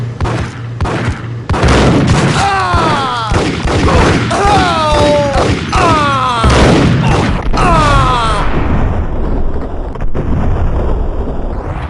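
Gunfire in the video game Max Payne, loud rapid shots and booming blasts mixed with ricochet-like whistling tones, continuing for several seconds before fading into a quieter tail.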